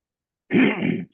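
A single close throat clearing, a short rough grunt-like burst lasting about half a second, then silence.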